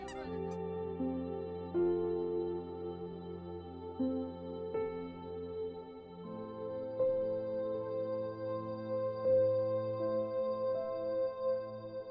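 Ducks give steady honking calls, carrying on continuously over a low background hum.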